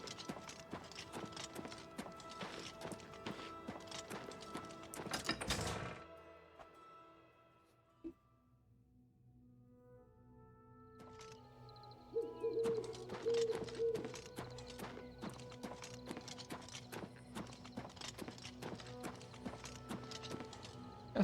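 Horse hooves clip-clopping in the video game Oblivion Remastered, a rapid steady gait that stops, leaving a near-silent pause, then resumes with ringing tonal game sounds and faint bird coos in the background.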